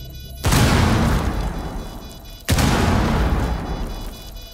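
Two heavy frag grenade blasts in Rainbow Six Siege, each a loud, sudden boom with a long rumbling tail, the second about two seconds after the first.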